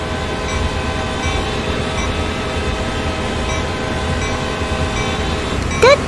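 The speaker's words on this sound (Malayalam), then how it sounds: "നമ്മുടെ ട്രെയിൻ ഒറ്റയ്ക്കല്ലേ ഇങ്ങനെ പോണേ" A train runs in a train driving video game, its steady loud rumble and engine drone filling the scene before a short horn blast near the end.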